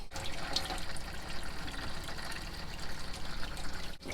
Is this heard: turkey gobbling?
no